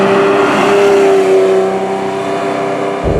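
A Ferrari Testarossa's flat-12 engine drones steadily and loudly from inside the car on the move, with a sustained tonal hum that shifts in pitch near the end.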